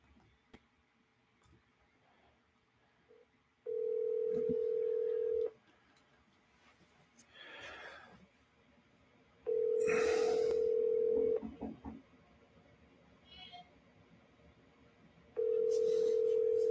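A telephone call placed by phone: short dialing clicks, then a steady tone sounding in three long, evenly spaced rings with quiet gaps between, close and clear, with brief faint noises in the pauses.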